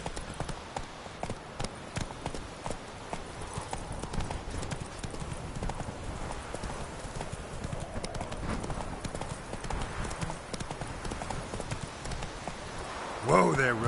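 Roach the horse from the video game The Witcher walking with steady clip-clopping hooves throughout, a rider speaking over the hoofbeats and a louder burst at the very end.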